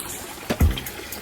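A Bass Tracker boat's live well filling with water, a soft steady hiss of running water with a brief gurgling splash near the middle.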